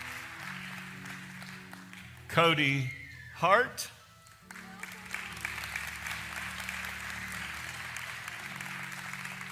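A church congregation claps steadily in the background during a Sunday service while someone briefly speaks over a microphone, with music playing under the applause.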